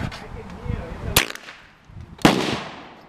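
A Winchester M1885 Low Wall rifle firing CCI rounds at a target produces two sharp, loud cracks about a second apart, each with a short decaying tail, close by and without talk over them.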